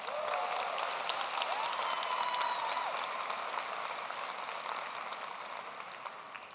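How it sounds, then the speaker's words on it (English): A large gala audience of about 1,200 people applauding, a dense, steady wash of clapping that holds evenly and then slowly fades toward the end. "Please, let's give them another round of applause."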